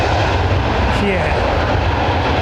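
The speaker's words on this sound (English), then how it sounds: "Very minimal amount of reverse thrust used there for the decel." A jet airliner rolls out after landing at London Heathrow using minimal reverse thrust, giving a brief steady engine rumble and roar with a faint rising whine, and people talking over it.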